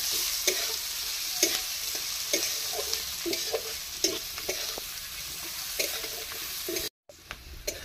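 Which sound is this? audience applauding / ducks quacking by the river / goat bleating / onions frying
onions frying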